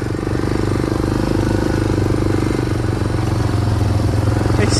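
Yamaha Big Bear 400 ATV with only one working front brake riding through woods, a steady close engine drone with rattling clatter running throughout.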